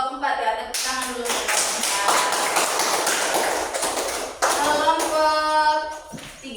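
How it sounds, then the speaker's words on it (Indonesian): A classroom of students bursts into applause for a student group after its presentation, a dense, lively clatter of many hands close by, with voices chattering underneath and a fresh surge of clapping near the end. "Kelompok 4 ya, tepuk tangan dulu."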